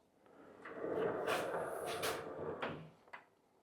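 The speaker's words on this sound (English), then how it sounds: "check out this. Soft opening and soft close." Soft-close pocket door gliding along its track, a smooth rolling slide of a few seconds that eases to a gentle stop with a light soft thump at the end, fairly quiet.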